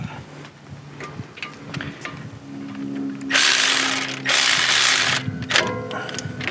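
A Milwaukee cordless ratchet snugs down a brake caliper bolt with a 19 mm wrench on a 2011-2017 Honda Odyssey front brake job: loud, close bursts of whirring and clicking, two main runs separated by a short pause, with lighter mechanical ticks around them.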